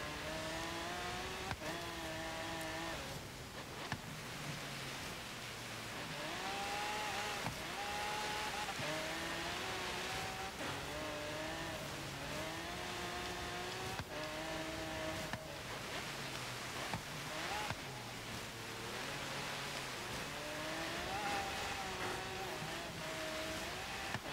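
A 2017 Ford GT in Forza Horizon 3 on the Blizzard Peak hill climb, its engine revving up and down repeatedly through gear changes at high speed, loud and continuous throughout.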